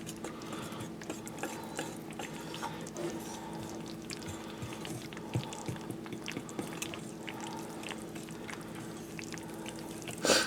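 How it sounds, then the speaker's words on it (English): Pumpkin waffle batter being whisked in a bowl: a continuous, close, rhythmic scraping and clicking of the whisk against the bowl, moderately quiet, with no talk. "Give it a whisk."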